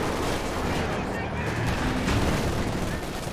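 Machine gun fire in Company of Heroes 2, a World War II real-time strategy battle, dense rattling bursts mixed with other gunfire and distant explosions in a continuous loud battle din.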